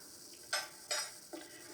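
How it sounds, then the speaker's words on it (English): Whole wheat flour and salt are mixed in a bowl, giving three short scraping, stirring strokes close by against a quiet background with no speech. "So mix it together."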